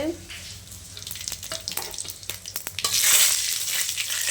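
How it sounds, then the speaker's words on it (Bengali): Bay leaf, dried chilli, cinnamon, cardamom and cumin dropped into hot oil, a close crackling sizzle with scattered stirring clicks that swells into a louder, fuller hiss near the end. "তেল গরম হয়ে গেছে, আমি দিয়ে দিচ্ছি তেজপাতা, শুকনো লঙ্কা, দারচিনি, এলাচ"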